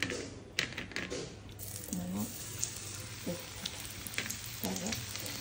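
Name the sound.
frying semolina-coated marinated surmai fish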